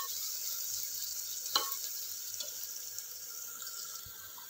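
Tomato and onion sautéing in a pan for dal khichdi, a steady soft sizzle with a sharp spatula tap and occasional light stirring scrapes.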